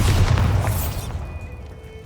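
A Bombarda spell explodes in Hogwarts Legacy with a single loud, deep boom that rumbles and fades over about two seconds.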